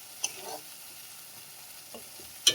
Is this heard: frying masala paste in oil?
yes